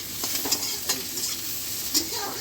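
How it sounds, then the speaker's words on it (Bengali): Something fries in oil with a steady, moderate sizzle close by, in a home kitchen making an old-style afternoon snack. A few brief stirring scrapes poke out at intervals. "দেখো আমার এগুলো ভাজছে ভালো করে"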